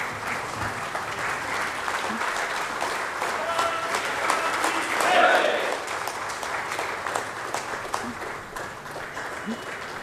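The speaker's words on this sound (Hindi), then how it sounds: "जोरदार तालियों के साथ आपका स्वागत है सर" Sustained applause from an award ceremony audience, dense clapping that swells slightly midway, with some voices faintly mixed in.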